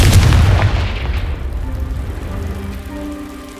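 A Confringo fire spell explodes against a pile of blocking debris in the Hogwarts Legacy video game, a loud booming blast that rumbles and crackles as it fades over a few seconds.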